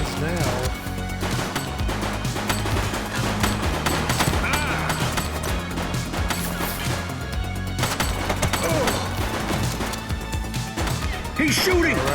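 Rapid bursts of gunfire and crashing impacts in the police video game The Precinct, loud and dense over a pounding music bed, with a voice speaking now and then.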